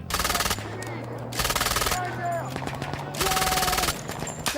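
Heavy bursts of rapid gunfire break out during a military training battle exercise, with volleys coming in waves. Voices shout commands over and between the shots.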